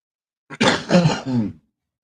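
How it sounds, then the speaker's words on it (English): A single short, rough human cough, close and fairly loud, with a throaty rasp and no other sounds around it. "that cough sounded better than like A human cough"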